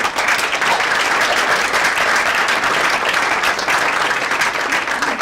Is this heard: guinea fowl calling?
no